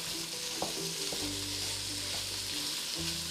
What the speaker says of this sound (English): So I'm going to put in a pound of ground beef directly into my onion mixture